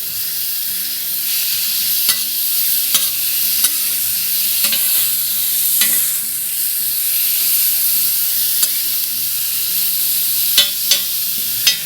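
Sausage, onions and peppers sizzling on a flat top griddle: a loud, continuous hiss with sharp metal spatula taps and scrapes at irregular intervals, close and steady with no talking.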